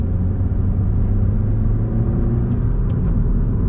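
Subaru WRX accelerating hard, a low, steady engine rumble heard from inside the car, close and continuous.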